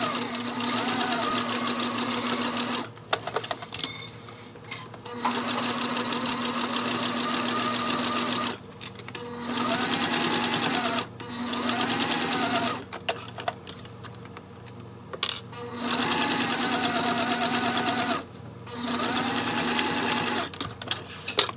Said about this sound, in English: we're gonna sew from here all the way down